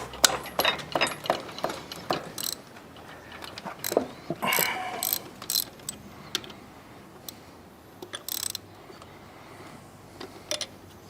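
A ratchet loosens bolts on a 1981 DeLorean engine during a teardown, giving bursts of quick metallic clicks with short pauses between, close and clear, with no talking.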